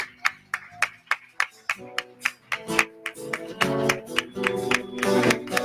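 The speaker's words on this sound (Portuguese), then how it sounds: "Então vamos aplaudir ao Senhor, amém?" A church congregation at a missions service claps in a rhythmic, roughly steady beat, sharp distinct claps that grow fuller and denser toward the end, with musical tones sounding underneath.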